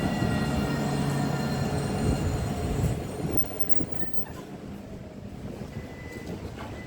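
A train or tram motor passes at Nottingham with a broad, steady rumble and a whining hum that gradually fade as it moves away, heard alone without voices.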